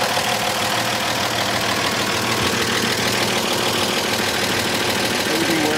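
A restored 1951 Chevrolet 3100 pickup with a straight-six engine and four-speed idles smoothly, a steady, even hum with faint mechanical ticking and no pauses.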